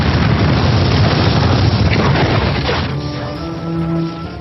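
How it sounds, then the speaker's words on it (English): A massive explosion rumbles out loud and broad for about three seconds, then fades into a lower, quieter resonant tail. "late one night there was a massive explosion"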